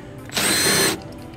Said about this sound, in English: we got to use the power tools.